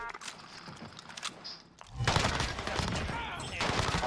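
Gunfire in a Call of Duty Warzone match: a few scattered shots, then a dense, loud stretch of rapid automatic fire and overlapping bursts filling the second half.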